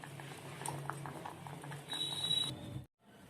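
Half-boiled potatoes are cooled under running cool water, a steady wet patter and splash that swells for a moment before cutting off abruptly near the end.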